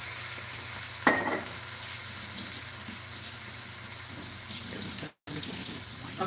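Steady sizzle of tomato cooking in a pan with a splash of dry Pinot Grigio, a continuous hiss with one sharp clink near the start and a brief dropout toward the end.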